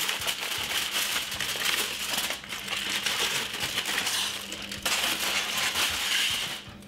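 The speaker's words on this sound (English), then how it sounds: "I'm gonna remove the foil." Aluminium foil is peeled off an oven tray of honey roast vegetables, giving a steady, close crinkling and crumpling for several seconds with a brief pause partway, and no talking.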